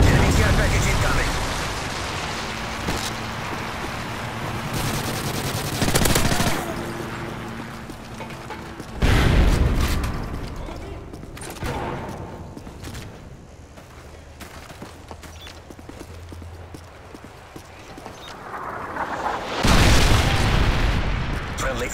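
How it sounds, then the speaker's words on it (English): Heavy booming explosions from predator missiles and airstrikes in a Modern Warfare 3 team deathmatch, with loud blasts near the start, middle and end over continuous game noise and announcer voice lines. "Predator missile inbound."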